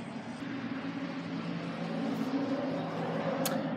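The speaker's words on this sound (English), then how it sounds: "There goes the plane." A plane passes overhead as a steady, broad droning rumble with a low hum, holding at a moderate level and swelling slightly toward the end, with no voices.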